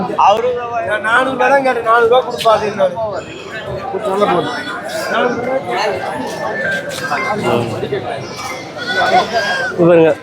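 Goats bleating repeatedly at the crowded Ranipet goat market, several animals calling close by amid a busy hum of people chatting in the background.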